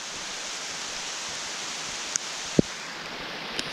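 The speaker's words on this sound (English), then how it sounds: "the woods definitely needed this downpour" A downpour of rain in dry woods, a steady even hiss of heavy rainfall, with a few sharp close knocks and drips standing out above it.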